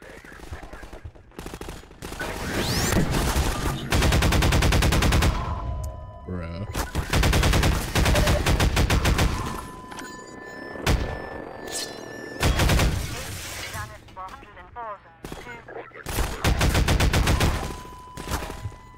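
Bursts of rapid gunfire from Half-Life 2: Episode 1 rattle loudly in several clusters, separated by short gaps with brief electronic tones and scattered single shots.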